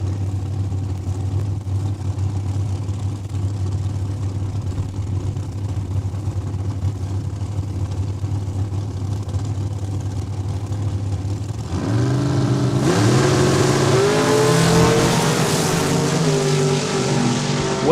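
Drag racing dragsters at Saskatchewan International Raceway, a low steady engine drone that breaks into a louder, harsh roar with rising pitch sweeps as the cars launch down the strip, no talk.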